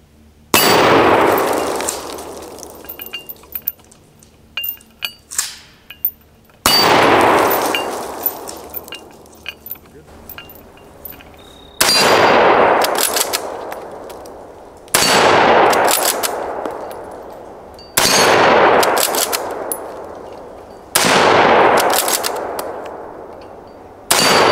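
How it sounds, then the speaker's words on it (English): A Stevens Security pump action shotgun booms at an outdoor range in five loud, widely spaced blasts, each followed by a ringing clang from steel targets that decays slowly, with a few smaller metallic pings in between. "it's just a generic Stevens Security pump action shotgun."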